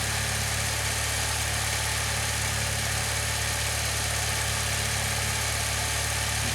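A Saab car engine idles at a little over 1,000 RPM, a constant, close, droning hum with a steady low vibration and no break.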